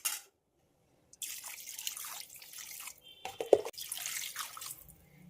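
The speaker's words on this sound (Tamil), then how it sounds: "இதுக்கு வேகிறதுக்கு அளவு நம்ம தேவையான தண்ணி சேர்த்துக்கலாம்." Water splashes and trickles into a cooking pot holding mutton bones, a close pouring sound running in uneven bursts with a few sharp drips, after a brief silent gap.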